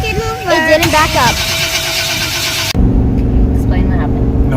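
An engine cranks and catches with a rising, wavering whine, then settles into a loud, steady running drone. A voice speaks over the start.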